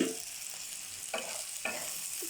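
Whole spices such as cinnamon and cardamom with garam masala sizzle in hot oil in a pan, a soft steady frying hiss broken by a few scraping stirs, close and alone.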